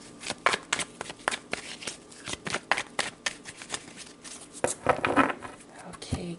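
A deck of tarot cards is shuffled by hand, making a steady run of crisp riffling and flicking bursts close up, with faint speech now and then in the background.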